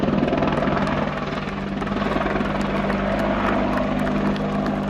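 A Westland WAH-64D Longbow Apache AH1 helicopter flies a display at RIAT 2019. Its rotor beats with a loud, close, pulsing thrum over a deep engine roar that stays steady throughout, with no voices.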